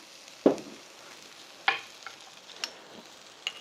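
Seaweed stems stir-fried with garlic in perilla oil over medium-low heat, heard as a soft background sizzle broken by a few sharp clinks and scrapes of a utensil against the pan, spaced apart, without speech.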